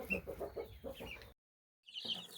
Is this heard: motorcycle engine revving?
no